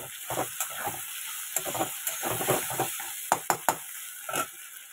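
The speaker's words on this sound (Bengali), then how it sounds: "এবার এটাকে ভালো মতো কষাবো" Cumin, ginger, garlic and dry chilli paste sautéing in a pan, a close sizzle with bursts of scraping stirring and a few sharp clacks near the end, no voices.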